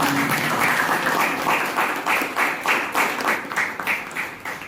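A Toastmasters club meeting audience gives a round of applause, steady dense clapping that holds at a fairly loud level for the whole stretch with slight pulsing, no talk over it.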